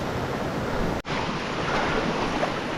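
Rushing river water at a trail river crossing, a broad steady roar of flowing water close to the microphone, briefly cut out for a moment before continuing.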